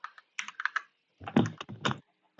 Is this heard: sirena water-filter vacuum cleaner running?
no